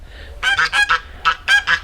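Farm geese honk loudly and close by, excited after being tossed a leaf, giving a rapid string of harsh nasal honks in several overlapping bursts.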